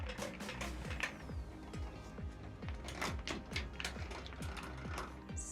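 A ratchet tightens a bolt on a 100 Series Landcruiser with 414,000 km, a fast, regular run of close mechanical clicks continuing throughout with slight variations in pace.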